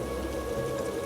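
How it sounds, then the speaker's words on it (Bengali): Steady rain falls at night on an old palace building with damp stone-floored rooms, a continuous even wash of drops with no voices, moderately loud and close throughout. "বৃষ্টির শব্দ ছাপিয়ে একটা অন্য শব্দ কানে এলো সায়নের"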